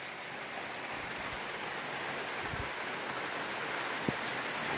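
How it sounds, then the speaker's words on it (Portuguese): Steady rain falls on a rural morning in Mogeiro, Paraíba, with water running from a spout; a dense, even wash of hiss continues throughout, with one brief knock near the end and no talking. "A água já caindo ali na bica"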